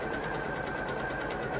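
A sewing machine stitches a quarter-inch seam on bias binding, running as a continuous fast whirr and needle rattle, close and loud, without speech.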